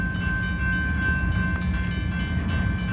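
Union Pacific 8860 slowly leading an outbound manifest freight train at Baseline Road, a loud steady rumble of freight cars with a faint sustained tone and evenly spaced wheel clicks from nearby.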